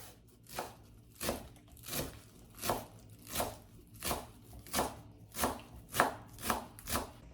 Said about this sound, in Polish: Za chwilę pokroję sobie pietruszkę.